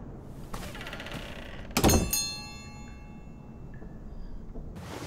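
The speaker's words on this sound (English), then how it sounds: "Let's go behind the secret door." A secret door in the King's Quest video game slides open with one loud, near thunk and grinding swell, followed by a ringing, fading mechanical tail and a quieter shift at the end.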